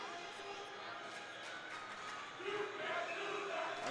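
A Bruins home crowd at a boys high school hockey game between the West Fargo Packers and Fargo South Shanley shouts in protest, a sustained roar that swells in the second half with voices rising above it.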